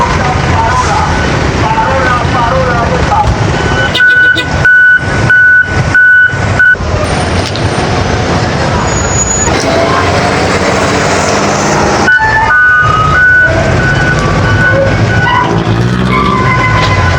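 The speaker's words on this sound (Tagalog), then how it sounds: "Ito may malaking truck pa yung kargahan ng basura." A large garbage truck reverses with loud, evenly spaced electronic beeps repeating for several seconds, pausing and then starting again, over heavy engine rumble and street noise.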